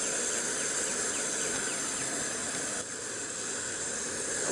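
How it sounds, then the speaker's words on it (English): Water at a rolling boil in a pot gives a steady, dense hiss and bubbling rush that stays loud and unbroken throughout, heard alone without talk. "Okay, I got a good roll and boil going here."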